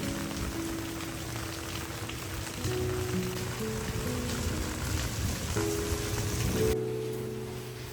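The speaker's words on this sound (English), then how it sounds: "Rainy days in the countryside are simple and soothing." Steady patter of rain falling on a rural countryside day, a dense even hiss of drops with faint tonal hums running underneath, continuous and moderately close.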